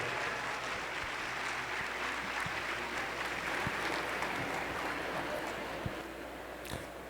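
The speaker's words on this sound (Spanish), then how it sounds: "Recibámoslos con un fuerte aplauso." Audience applause at an education conference welcoming a speaker to the stage, a steady dense wash of clapping that holds through the whole stretch with a few sharper claps standing out.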